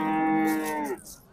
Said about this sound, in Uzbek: Do'stlar, mana navbatdagi sigirimiz bolasi yoshidan.